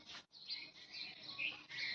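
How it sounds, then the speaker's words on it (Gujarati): Birds chirp and trill in the morning near the Shetrunji hills, a quiet continuous run of high twittering calls with one brief pause. "અત્યારે મસ્ત પક્ષીનો અવાજ આવે છે"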